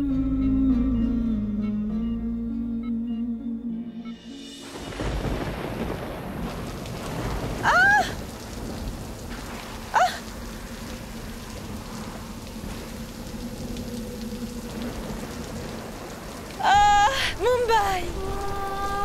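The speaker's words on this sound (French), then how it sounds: "Le ciel était dégagé il y a quelques heures, mais il a commencé à pleuvoir maintenant." Heavy rain falls steadily after a sudden onset, with low thunder rumbling beneath it and brief voices or cries breaking through now and then.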